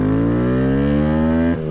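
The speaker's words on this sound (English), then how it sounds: "This thing is way louder. Sounds like a actual dirt bike now." A Honda Grom motorcycle fitted with a high-compression piston and cam revs up in one smooth rising pull, loud and close, then cuts off abruptly near the end.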